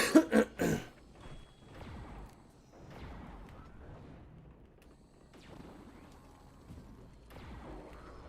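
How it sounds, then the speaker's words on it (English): A person sick with a cold gives a burst of several harsh, close coughs at the start, followed by quieter breathing and faint background noise. "Still sniffling, still coughing"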